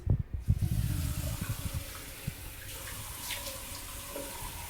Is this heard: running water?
yes